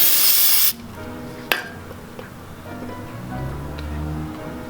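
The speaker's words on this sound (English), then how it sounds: "wipe some of the excess debris off of it and then spray with contact cleaner" A short burst of contact cleaner spray from an aerosol can onto a 2018 Yamaha WR250F part hisses loudly for under a second, then cuts off, followed by a sharp click and quiet room noise.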